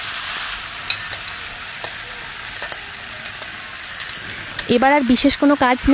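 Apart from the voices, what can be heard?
marinated pangas fish poured into a hot kadai, sizzling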